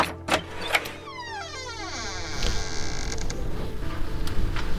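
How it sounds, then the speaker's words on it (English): A heavy door gives a solid clunk as its lock turns, followed by a long, drawn-out creak of hinges as it swings open, close and clear with no voices. "The heavy door unlocked with a clunk and swung out with a long creak."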